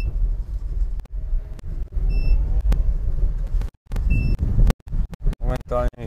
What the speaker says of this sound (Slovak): Momentálne mi pípa.